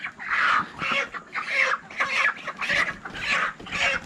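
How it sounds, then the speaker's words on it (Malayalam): Chickens carried by hand, fourteen birds held by two people, cluck and squawk in a loud, close, continuous series of agitated calls with brief pauses between bursts. "ആ 2 പേർ കയ്യിലായിട്ട് 14 കോഴിനാണ് പിടിച്ച് കൊണ്ടുപോകുന്നത്."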